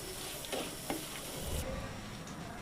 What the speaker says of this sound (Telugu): ఒక 2 మీడియం సైజ్ ఆనియన్స్ ఇలా కట్ చేసుకొని ఒకసారి అలా ఫ్రై చేసుకుందాం